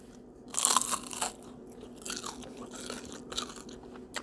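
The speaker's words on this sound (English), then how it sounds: "I hope you heard the crunch." A sharp, loud crunch as a crisp spring roll filled with collard greens and rice is bitten, followed by several softer crunching chews up close.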